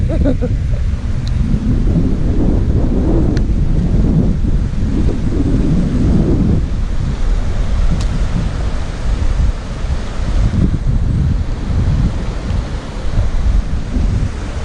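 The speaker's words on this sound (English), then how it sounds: "I'd love to paddle that river when it was in flood. Now look at it." A river in flood roars in a steady, heavy rush of churning water, loud and continuous with wind buffeting, no voices heard, in the Peak District at dusk.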